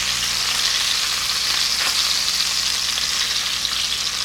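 Breakfast food frying in a pan on a stovetop burner, a loud, steady close sizzle with no talk.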